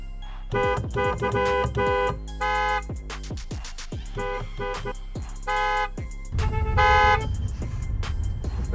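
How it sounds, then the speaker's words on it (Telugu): Car horns honk in city traffic in a run of repeated blasts, some short and some held, loud and close, with a steady engine hum underneath. "ఆన్ కొట్టేయండి, కంటిన్యూస్గా ఆన్ కొట్టండి."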